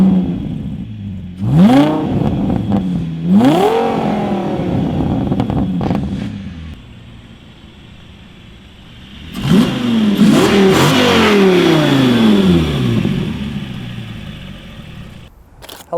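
An Audi station wagon with a swapped twin-turbo V10 fires up and revs repeatedly, loud close blips rising and falling in pitch, separated by a steady idle.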